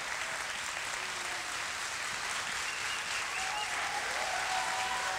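A festival audience at FIBD 2018 applauds Reno Lemaire and Hiro Mashima before a live drawing battle, a dense, sustained wash of clapping from a large crowd, steady and unbroken from start to finish.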